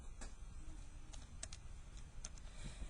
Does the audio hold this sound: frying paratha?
no